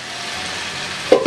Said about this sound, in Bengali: এতে আমি মাছগুলো ছেড়ে দিচ্ছি